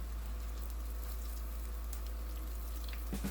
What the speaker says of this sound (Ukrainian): Смажу спочатку з одного боку 3 хвилини, потім з іншого.